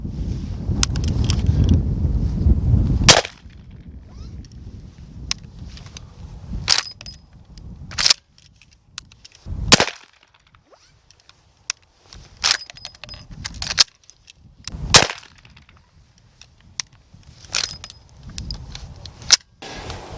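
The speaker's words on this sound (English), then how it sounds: "This action on the Cimarron Spencer Carbine is very distinct sounding." Cimarron 1865 Spencer Carbine lever action worked repeatedly, several sharp metallic clacks and clicks spaced a few seconds apart, close and distinct against a quiet background after a short stretch of low rumbling noise.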